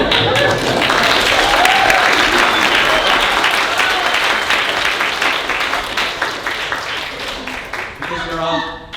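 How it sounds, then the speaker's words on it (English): A comedy club audience claps and cheers in a sustained, dense burst of applause that fades slowly, and a voice speaks briefly at the end. "In my mind, you're all applauding for me."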